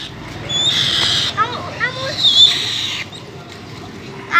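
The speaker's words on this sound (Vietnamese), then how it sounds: "Con xem hai chim dành ăn kìa." White kites squabbling over pieces of pork, giving sharp high whistling and squealing calls in quick bursts, fairly close, with a person talking nearby.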